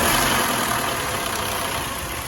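A warmed-up Mercedes-Benz W212 with the M271 turbo engine, which has a knocking fault, idling steadily as a dense, even mechanical hum with no voices.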